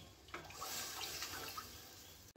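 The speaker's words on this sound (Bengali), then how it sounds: "এবার দিয়ে দেবো জল আলু সিদ্ধ হওয়ার মতো জল দেবো" Water poured into a pot of potatoes for a jhinge dhoka curry, a soft, close rushing pour lasting about two seconds before stopping.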